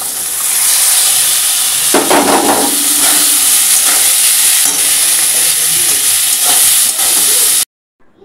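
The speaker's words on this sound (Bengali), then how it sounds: "উচ্ছেটা একটু ভেজে নিই, তারপরে ওই সবজিগুলো দিয়ে দেবো" Bitter gourd and mixed vegetables frying in a wok make a loud, steady sizzle and hiss, with stirring scrapes joining in at about two seconds, then stopping abruptly near the end.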